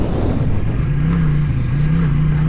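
Suzuki Intruder V-twin cruiser motorcycle that has been sitting for a while, its engine revving close and loud in a steady throb with slight rises in pitch.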